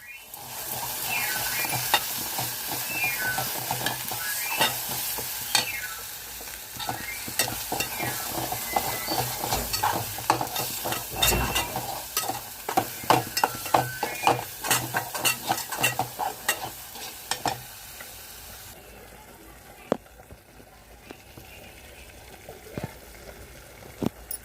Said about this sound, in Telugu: ఉల్లిపాయ పచ్చివాసన అంతా పోయేలాగా వేయించుకోవాలి.